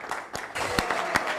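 Applause breaks out at a cybersecurity law forum for lawyer Mugendi: a short burst of crowd clapping with a few sharper claps standing out, moderately loud and fairly close.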